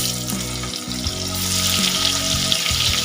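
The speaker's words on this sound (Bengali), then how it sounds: "পটলটা একটু ভালো করে ভেজে নিই" Pointed gourd fries in a pan for a prawn dish, giving a loud, continuous close sizzle with occasional soft scrapes of stirring and no talking.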